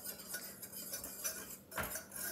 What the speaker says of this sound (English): we're going to whisk that together and set it aside